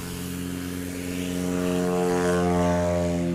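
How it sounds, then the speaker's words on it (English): A Cessna 182 runs its propeller engine at full throttle on takeoff at a STOL competition. It makes a loud, steady, close droning roar that swells slightly as it goes, with no talk over it. "Full throttle in the 182."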